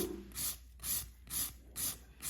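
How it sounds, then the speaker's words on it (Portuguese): A nail file rubbing along the side wall of an almond-shaped nail, held flat, in five steady evenly spaced rasping strokes, close and fairly quiet with no voices. "Eu quero lixar esta região aqui, ó, essa parede toda"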